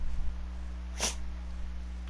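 A dog gives a single short, sharp sneeze halfway through, standing out over a steady low indoor hum with no talking.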